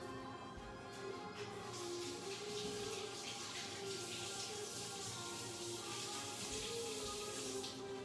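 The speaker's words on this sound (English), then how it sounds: "let me rinse my hand." A hand rinsed under a running kitchen tap gives a steady, close hiss of flowing water that holds for several seconds with slight splashing changes and no talk.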